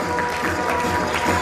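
Applause from a crowd at a Kadiya community get-together in Vasavad, welcoming a student: steady, dense clapping that stays loud and even throughout, with no voices over it.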